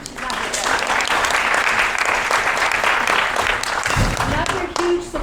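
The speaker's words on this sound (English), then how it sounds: "Clap your hands for her, even if she's not here." Audience applause fills a theater, steady dense clapping from a large crowd sustained throughout, with a brief dip near the end before it swells again.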